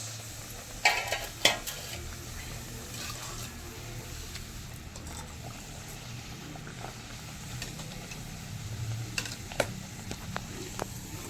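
Sweet puris fry in hot oil with a steady, close sizzle, broken by a few sharp crackles and spoon stirs.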